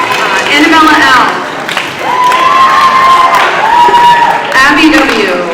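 An audience of students and families at an 8th grade awards ceremony claps and cheers in a steady, lively wash of sound, with excited voices and a few high shouts rising over the clapping.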